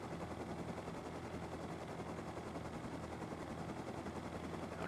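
In the Rust video game, a helicopter's rotor gives a steady dense thrum that fills the whole stretch at an even level. It comes across close and continuous with no talk.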